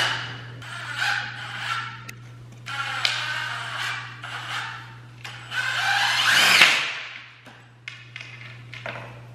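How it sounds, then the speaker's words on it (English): Short bursts from a power drill driving tiny screws whir in and out close by, outdoors at a lake, several spaced runs with one longer straining spin, over a low steady hum. "So we got the drill now. Got these tiny little screws."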